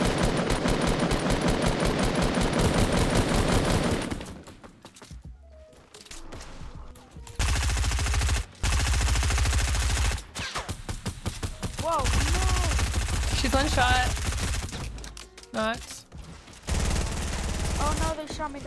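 Sustained automatic gunfire in Fortnite Battle Royale, loud and continuous for several seconds, then bursts of shots returning in clusters, mixed with other game effects and a player talking.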